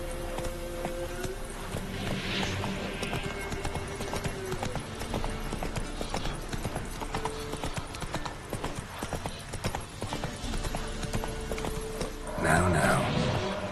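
Roach, Geralt's horse in The Witcher 3 video game, gallops with rapid, continuous hoofbeats close up, with a brief louder burst of noise near the end.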